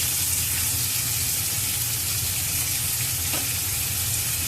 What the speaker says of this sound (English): I really love this sound of the sizzling hot oil in the fish.